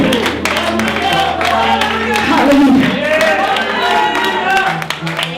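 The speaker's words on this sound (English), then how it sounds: "Come on and clap your hands and give God the glory." A church congregation claps along, scattered hand claps and crowd noise running steadily under a loud voice calling out, with cheering and whoops.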